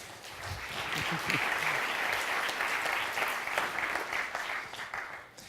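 Dense audience applause at a conference fills the hall, swelling early and holding steady before tapering off near the end, with little talk over it.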